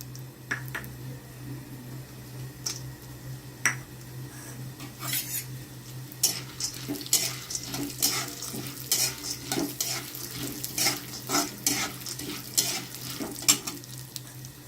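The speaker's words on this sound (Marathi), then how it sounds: "आता तेल गरम झालं, डाळ्या टाकायच्या, शेंगदाणे टाकायचे" Lentils and peanuts frying in hot oil for a dry mint chutney, stirred with a spoon against the pan, giving a steady sizzle broken by frequent scraping clicks and clatters, with no talking.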